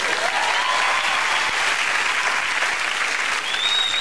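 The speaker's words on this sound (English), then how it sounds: "a big round of applause for a lady who is very prominent in the world of jazz" A theatre audience claps for a jazz singer, giving steady, dense, loud applause that continues without a break.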